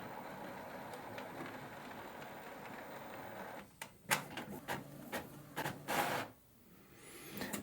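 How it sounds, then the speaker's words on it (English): An Epson ET-3950 inkjet printer runs a print job, a soft mechanical whir that gives way to a loud run of rattling, clicking feed and carriage bursts as the motorized output tray pushes out, then settles back to a low hum. "I will just launch a print."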